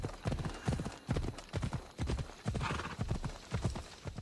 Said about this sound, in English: Horse is slowing down due to proximity to the city.